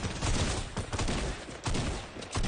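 Dense, sustained video-game gunfire from the Roaring 20's game mode, a continuous loud rattle of rapid shots that fills the whole stretch with no talk.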